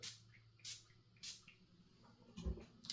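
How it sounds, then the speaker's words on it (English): Three short, airy spritzes from a 200 ml Versace Pour Homme perfume spray bottle, evenly spaced, close and fairly quiet, followed by a soft handling noise. "so let's spray on the fragrance."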